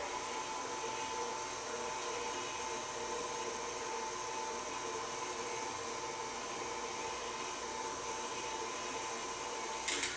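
An electric mixer runs at a raised speed through yam pie batter, making a steady, even whir that holds unchanged throughout, with a brief click right at the end.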